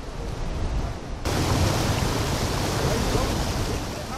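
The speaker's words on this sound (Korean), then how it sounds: "바닷물이 거칠게 울며 돌아 울돌이라 불리는 이곳의 다른 이름은 울명자의 다리량자" Rough tidal sea currents roar through the Uldolmok strait off Jindo, a broad continuous rushing of churning water that grows louder partway through, with a narrator's voice over it.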